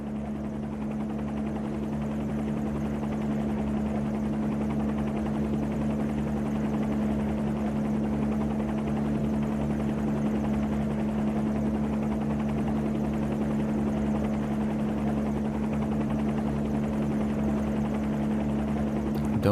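Bell 47 helicopter in a flight simulator game, a steady loud rotor drone and engine hum that holds constant throughout with no pauses, the low whirring tone unbroken as the aircraft moves into forward flight.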